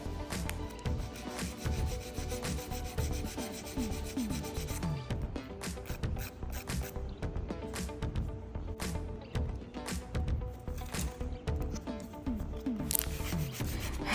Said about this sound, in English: it was really hard for me to keep the nail tips in my silicone hand while filing